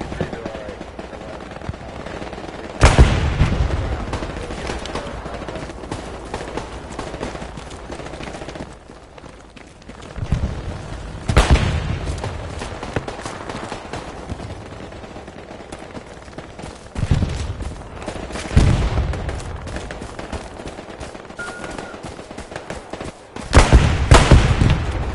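Video game gunfire aimed at a tree, loud bursts of shots breaking out at intervals over a steady background rumble, with several sharp volleys spread through the scene and quieter stretches between them.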